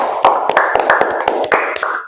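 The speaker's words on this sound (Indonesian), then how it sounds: "Oke, tepuk tangan." A classroom of students clapping hands, a short burst of distinct, fairly close claps in an uneven rhythm with a voice or hum underneath.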